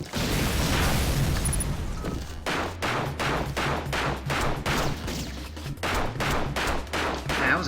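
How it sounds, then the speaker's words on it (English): Rapid gunfire in the video game Rengoku, identified as a double-barrel shotgun, a long string of loud, evenly spaced blasts over a low droning music bed after a dense noisy burst at the start. "That was a double-barrel shotgun."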